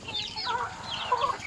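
Penned chickens and stags cluck softly in brief, scattered calls at moderate distance.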